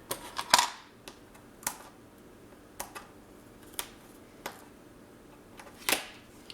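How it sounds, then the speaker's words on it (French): Scissors cut a strip of paper for a scrapbook album cover: a run of crisp, isolated snips and clicks spaced irregularly, close and fairly quiet in a still room. "Je vais en couper un peu."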